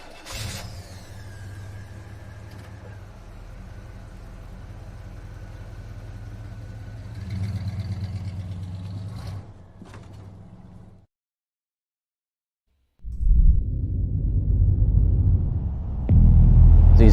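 Race car engines idle with a low rumble and rise into revving, cut to silence, then return louder with a deep, close roar.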